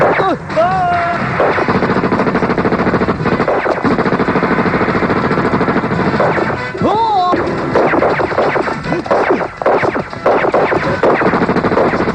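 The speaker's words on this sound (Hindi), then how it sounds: "मुझे कवर फायर देना। मैं पीछे के रास्ते से जाता हूँ। चालू रखना फायरिंग।" Continuous loud gunfire crackles beneath shouting Hindi voices and dramatic background music in a 1990s TV drama, dense and chaotic throughout.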